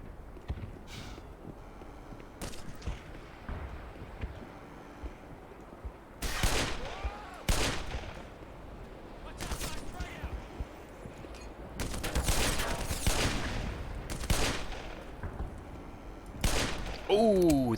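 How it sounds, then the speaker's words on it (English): Magnum revolver shots ring out in Black Mesa amid a firefight with Marines, several loud sharp reports spaced irregularly between quieter stretches of game noise. "that was an excellent headshot for my very last magnum shot"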